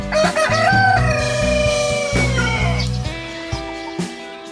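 Chickens cluck nearby in a backyard farm while a rooster crows loudly, with more calls overlapping throughout; no talking.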